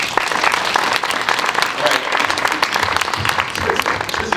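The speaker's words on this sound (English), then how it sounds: "We give them all a big round of applause." Audience at a board of directors' work session applauding its members, a dense continuous clapping from a crowd that holds steady throughout, with talking underneath.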